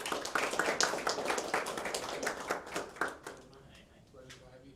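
An audience at a chess tournament venue in a Miami hotel claps for the hotel manager, a dense burst of applause that thins and fades out over a few seconds, with a voice talking over it.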